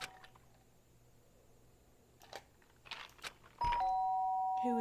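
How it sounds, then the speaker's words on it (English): A doorbell rings in the Danganronpa Trigger Happy Havoc video game, a bright sustained electronic chime that starts near the end after a few soft clicks and rustles over quiet background ambience. "The sharp sound of the doorbell pierced my sleepy haze and pulled me back to the real world."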